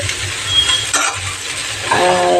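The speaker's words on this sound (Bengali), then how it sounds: "লঙ্কা দিয়ে দিয়েছিলাম একটু ভেজে নেব" Taro stolons cooked with chili and prawns sizzle loudly in a pan, a close, continuous hiss with brief stirring clatters and no one talking.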